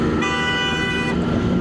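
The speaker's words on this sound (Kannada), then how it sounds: "ಯಾರ ಮೇಲೆ ಹಾರ್ನ್ ಹಾಕೋದು" A Suzuki Shogun motorcycle horn honks in one steady, bright, close blast of about a second over a rumbling traffic and engine background.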